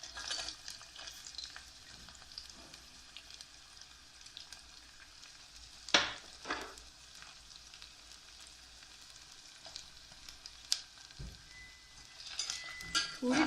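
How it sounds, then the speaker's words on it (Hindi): Chopped onion and garlic fry in hot oil with a steady close sizzle, interrupted by occasional stirring scrapes and a few sharp clinks of a utensil against the pan. "थोड़ा सा तेल लेके, ये इतना तेल लिया, और इसमें ये प्याज काट के जो रखी हुई थी वो डाल दी।"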